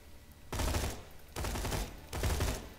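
A Dahl assault rifle in Borderlands 2, a red-text gun with varying burst counts, fires three separate loud bursts of rapid shots, each about half a second long, with short pauses between.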